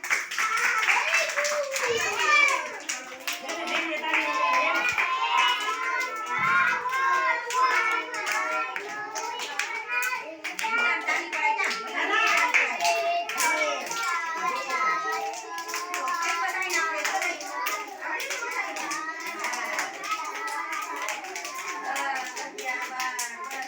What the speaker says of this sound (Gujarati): વેરી ગુડ, તાળી વગાડો બધાય